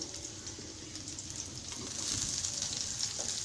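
Dried shrimp drop into onions frying in a pan, giving a continuous, moderately quiet sizzle and crackle that swells slightly as they go in.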